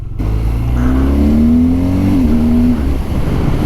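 A BMW R12 GS motorcycle engine is held at full throttle and short shifted, loud and close, its steady drone rising in pitch, dipping briefly at a gear change, then climbing again before dropping away.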